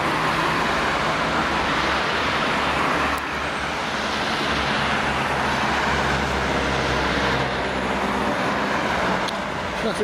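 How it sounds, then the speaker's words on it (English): Busy road traffic near Dunster rolls past in a continuous, loud rumble of cars and heavier vehicles, with no break across the stretch. "Traffic's getting busier."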